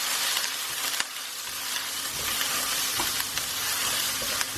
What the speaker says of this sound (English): Mix that through for a few seconds.